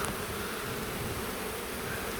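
A dense, steady buzz of many honey bees humming together on hive frames, close and continuous throughout.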